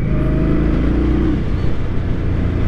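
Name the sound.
2023 Indian Scout motorcycle engine under throttle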